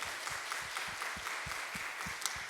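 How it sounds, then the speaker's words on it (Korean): A church congregation at a Friday evening worship service applauds its praise team, a steady wash of many hands clapping together, moderately loud and sustained throughout with no voices standing out. "우리 수고하신 우리 찬양팀에게 격려와 또 축복의 박수 한번 하겠습니다"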